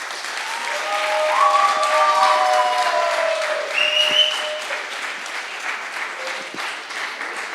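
A crowd applauds young presenters at a European Innovatory SpeakOut Day event, with steady, dense clapping that swells through the middle and then eases slightly, with a few tonal notes drifting over it.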